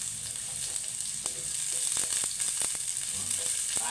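Garlic and onions sizzle steadily in hot oil as they fry for pork rib kaldereta, a close, constant hiss with a few crackles and utensil taps.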